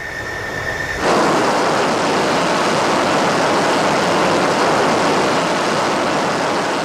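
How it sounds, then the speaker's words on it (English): An F-14 Tomcat fighter jet taking off from a runway: a quieter engine whine suddenly jumps to a loud, sustained, broadband roar that stays close and powerful throughout. "So 6-1, clear for takeoff on the right, switching airborne."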